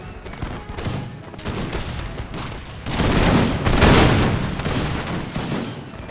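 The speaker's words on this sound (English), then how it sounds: "Open fire!" Musket volleys in an American Revolution battle game crackle as a dense, loud fusillade, many shots rippling together and building to a heavy peak before thinning into scattered reports.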